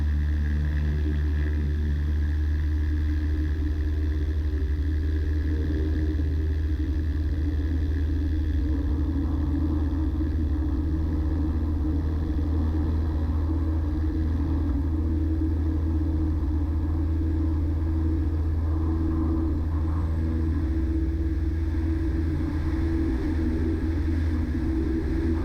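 A loud, constant engine drone with deep rumbling hum and steady harmonic tones, unbroken throughout, a small airplane engine at full throttle during a short field takeoff.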